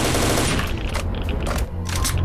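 Rapid automatic gunfire in S.T.A.L.K.E.R.: Shadow of Chernobyl, loud and continuous bursts of shots filling the whole stretch with brief dips between volleys.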